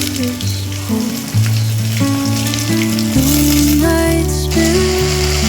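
Potatoes, soybeans and rice frying in ghee with onion and whole spices for veg pulao, a steady close sizzle that swells as the ingredients go into the pan, with no talking.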